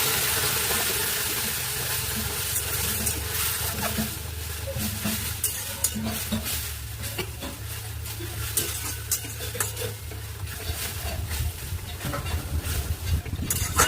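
Leafy red greens tipped into a pan of hot oil after tempering spices, giving a steady sizzle and frying crackle with occasional stirring and pan scrapes throughout.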